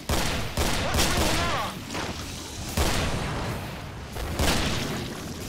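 Grenade explosions and gunfire in the video game Killing Floor: several loud booming bursts with broadband blasts recurring every second or so amid chaotic combat noise.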